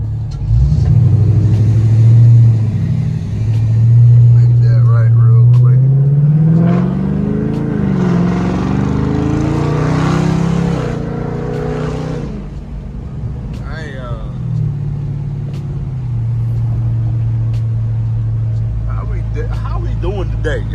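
A Dodge 392 engine rumbles steadily while driving, swelling into a louder rev around the middle before settling back to a low, continuous drone.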